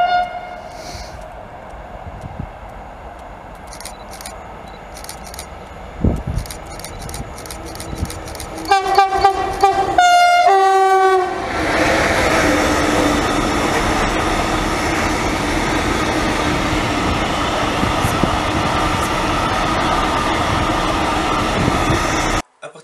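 A train arriving sounds its horn in a series of loud blasts, then the heavy rumble and rolling of the passing cars carries on close by for the rest of the clip.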